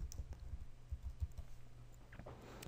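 Quiet computer keyboard typing, a short run of soft irregular key clicks, with a few louder taps near the end.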